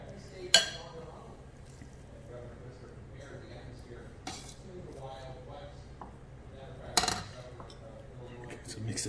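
A spoon clinks against a bowl while mixing saffron with butter, a few sharp metallic taps spaced several seconds apart with soft scraping between, under steady talk.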